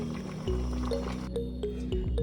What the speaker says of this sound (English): we will wash it in cold water to stop the cooking process